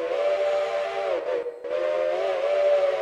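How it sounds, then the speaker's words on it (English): An NKP step top five-chime steam whistle in the Railroader video game blows one long, loud harmonic chord, briefly dipping and cutting out near the middle before sounding again, with no talk. "we got an NKP step top 5 chime"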